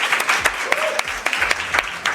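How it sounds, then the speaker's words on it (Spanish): Audience of university students applauds during a live radio show recording at a residence hall, lively irregular clapping with distinct sharp hand claps standing out, close and loud. "Aplauso."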